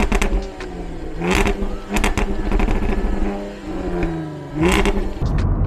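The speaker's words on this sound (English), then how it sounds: "The exhaust on it is insane." A 2015 Jaguar F-Type's exhaust revs and accelerates close by, the engine note rising and falling through several gear changes with sharp bursts, heard alone without talk.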